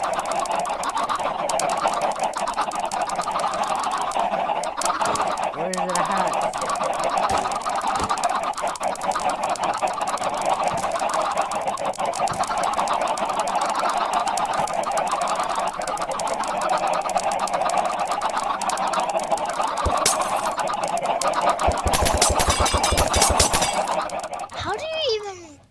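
Chickens cluck and squawk over a busy game soundtrack while people talk throughout, ending in a burst of clattering noise.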